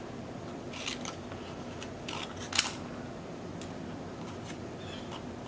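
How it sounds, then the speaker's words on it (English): Scissors cut around stamped paper images for a tea bag holder project, making a few soft, close snips and crisp paper clicks over a quiet background. "I'm going to go ahead and cut around each one"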